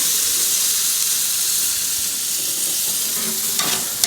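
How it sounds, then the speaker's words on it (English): Smoked babyback ribs on a Kamado Joe grill get spritzed, a steady sizzling hiss running throughout with a few short sharp spray bursts near the end, no talk. "We're going to spritz them again."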